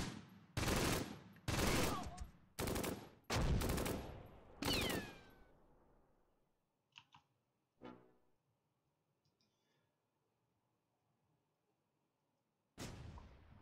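Loud bursts of automatic gunfire from a World War II strategy game, five heavy volleys in quick succession, then fading echoes, a few scattered distant shots, and one more sharp burst at the end.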